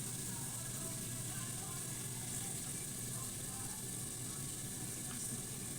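Oil heating in a pan for cooking chicken gives a steady, faint broadband sizzle and hiss that stays even and continuous throughout, with no talk over it.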